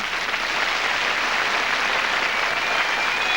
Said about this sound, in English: I think a big round of applause, don't you?